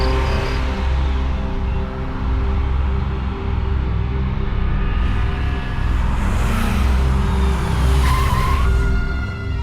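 A car's tires squeal and skid for several seconds as it brakes hard to a stop, a loud continuous screech over engine rumble, with no one speaking.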